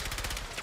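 Machine-gun fire comes from a Warzone battle royale match as a rapid burst of shots, moderately distant, with no talk during it.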